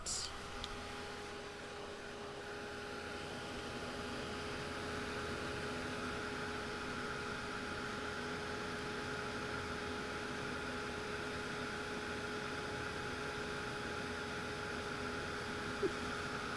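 A drying tool blows on a mixed media artwork, giving a constant whirring hum with a steady tone that runs unchanged from start to end and has no talk.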